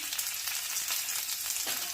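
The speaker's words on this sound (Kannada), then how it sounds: "ಸಾಸಿವೆ ಸಿಡಿತಾ ಇದೆ. ಕರಿಬೇವಿನ ಸೊಪ್ಪು ಹಾಕೋಣ." Mustard seeds and curry leaves sizzling in hot coconut oil, a steady, bright hiss of frying with faint crackles and pops running throughout, close and alone without any voice.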